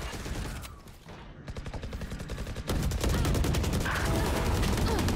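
Rapid gunfire in the tactical shooter Valorant during a collegiate esports match: dense, close bursts of shots that pause briefly, then resume as a sustained fast rattle.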